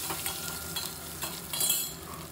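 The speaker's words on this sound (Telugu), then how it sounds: "ఎండుమిర్చి వేసి ఒకసారి పోపుని ఇలా వేగనిద్దాము" Cumin, coriander seeds, garlic cloves and dried red chillies temper in hot oil, giving a soft, close crackle and sizzle with a few light stirring scrapes over a couple of seconds.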